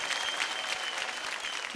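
Children on a TV show clapping for themselves, a brisk, steady round of applause from a small group, close and continuous, with no talk over it.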